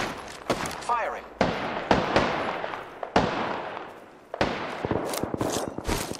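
Repeated bursts of gunfire from a battle-royale shooter match in Apex Legends, sharp loud shots at irregular intervals over in-game ambience, with a voice talking between shots.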